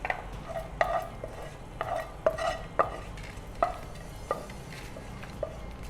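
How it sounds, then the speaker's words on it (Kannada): Onion and tomato being fried in oil for a Bangude masala fish curry, with scattered stirring scrapes and light clinks of a spoon against the pan over a low, steady background, no talking. "ಮತ್ತು ಟೊಮೆಟೊ, ಈರುಳ್ಳಿ ಅದನ್ನು ಸಮೇತ ಎಣ್ಣೆಯಲ್ಲಿ ಸ್ವಲ್ಪ ಫ್ರೈ ಮಾಡಿ."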